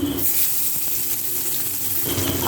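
Chopped onion fries in the oil left from frying fish for a fish curry, giving a steady, close, broadband sizzle with little variation throughout.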